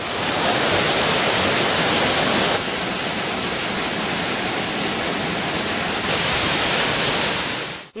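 Kuttralam waterfall flowing, a dense steady roar of falling water that is loud and continuous from start to finish, heard alone without any voices.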